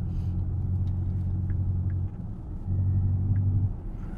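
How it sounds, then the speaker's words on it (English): An electric vehicle driving, a low steady hum and rumble with a faint whine, interrupted briefly then resuming, close and even with no talking. "that's what an EV sounds like"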